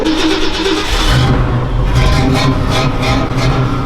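A 1965 Ford Mustang engine runs loudly and roughly just after starting, close by, with its rumble surging and falling briefly.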